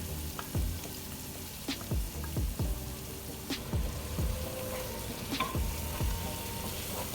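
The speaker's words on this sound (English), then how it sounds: "Now you're gonna add the meat into the pot." Goat meat for Jamaican curry goat sears in a pot with seasoning under a steady close sizzle, broken by repeated spatula knocks and scrapes against the pot as it is stirred.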